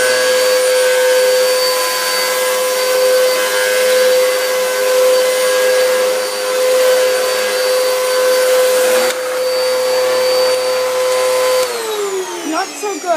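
Eureka vacuum cleaner roars loud and close with a steady high-pitched motor whine and airflow rush, dipping slightly as it moves, then pitch drops as it winds down near the end.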